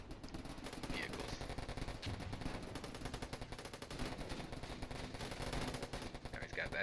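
Continuous distant machine-gun and rifle fire rattles in the Warfare Online strategy game, a steady quiet chatter of rapid shots filling the whole stretch, with faint voice-like game sounds mixed in.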